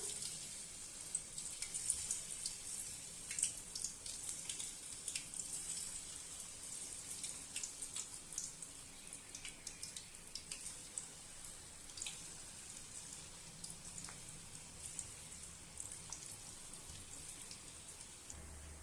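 Ragi pakoda dough dropped bit by bit into hot oil sizzles and crackles steadily, a faint, continuous frying hiss with scattered pops and no talk.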